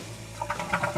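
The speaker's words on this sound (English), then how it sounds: "I'm gonna go ahead and flush it" A toilet flushes after a new fill valve has been fitted, a steady close rush of water swirling and gurgling in the bowl with no talk.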